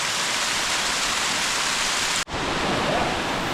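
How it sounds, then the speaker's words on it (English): A steep waterfall in Snows Gully, Nightcap National Park, rushes with a dense, constant hiss of falling water, loud and close, broken only by a momentary dropout. "It is a really good time for checking waterfalls."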